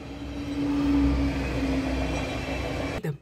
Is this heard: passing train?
yes